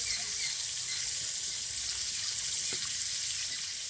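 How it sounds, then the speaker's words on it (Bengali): Water pours steadily into a bowl of cooled soybeans, a continuous hissing splash at close range with no pauses and no talking. "এবার আমি ওতে জল দিয়ে দেবো।"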